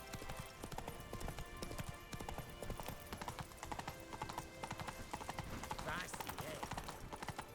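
Steady clip-clop of Roach's hooves from The Witcher 3 game, a galloping horse close by with continuous rhythmic hoofbeats, mixed with game ambience and a brief spoken voice.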